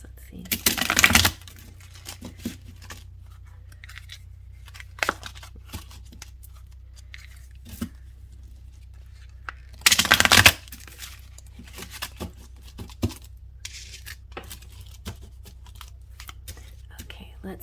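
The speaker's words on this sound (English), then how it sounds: "Give it a good shuffle. A better shuffle." Tarot cards are shuffled in short bursts, with two louder riffles early and midway and scattered soft card taps between them, while a low steady hum sits underneath.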